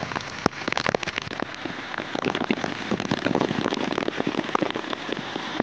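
Heavy monsoon rain pours down onto ground with standing water, a dense and steady crackle of drops hitting surfaces, loud and close throughout.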